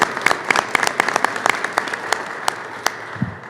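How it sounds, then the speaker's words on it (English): Audience applause at a New York State event honouring highway crews and road superintendents, a dense patter of clapping hands that carries on steadily, moderately near, with no voices over it. "And they deserve a round of applause."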